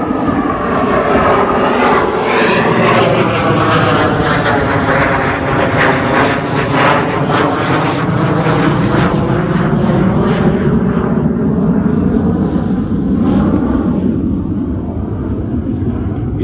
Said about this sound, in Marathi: इथे जवळच एअरफोर्स असल्यामुळे इथे सारखी जेट्स, विमानं पण उडत असतात. हे बघा वरून जात आहे.